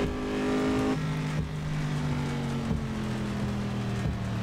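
Race car in Assetto Corsa accelerating in rain and thunderstorm conditions, a continuous engine drone climbing through gear changes, with a few pitch drops between shifts, steady and up close without any voices.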